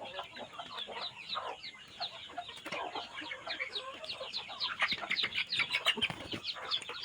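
Chickens on a farm clucking in a dense, continuous chorus of short overlapping calls, moderately near and steady throughout, with no talking.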